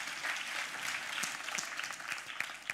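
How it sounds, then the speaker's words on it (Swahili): A church congregation claps together in steady, dense applause, a moderately distant patter of many hands with a few sharper claps near the end. "Tumpigie makofi"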